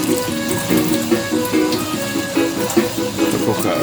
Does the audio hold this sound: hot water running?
yes